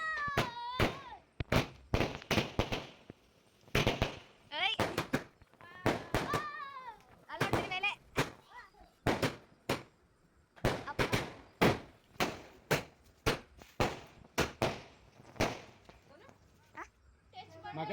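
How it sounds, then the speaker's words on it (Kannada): Diwali firecrackers, including flower-pot fountains, go off in a string of sharp, loud cracks and bangs at irregular intervals, with people talking and exclaiming between and over the bursts. "ನಾನು ಮತ್ತು ಪಾಪು ಫ್ಲವರ್ ಪಟಾಕಿ ಹೊಡಿತಾ ಇದ್ವಿ, ಕುಂಡನ."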